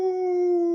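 A person imitating a wolf howl with one short, steady, pure-toned note, held briefly at an even pitch.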